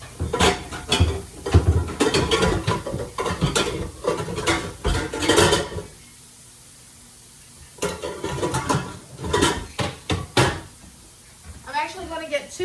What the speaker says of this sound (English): Get 2 pots going because I need to also get some eggs boiled.